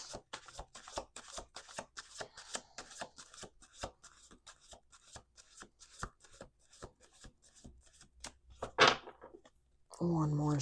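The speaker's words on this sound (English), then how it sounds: "Let's do 2 more shuffles." Tarot cards are shuffled by hand in quick, crisp riffling flicks, close and fairly quiet, with a brief voice near the end.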